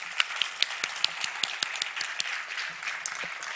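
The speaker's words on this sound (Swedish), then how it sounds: "en stor samlad applåd för alla nominerade tycker jag" Audience applause for the nominees at the August Prize literary awards ceremony, a steady patter of many hands clapping with sharper individual claps standing out, fairly soft and distant.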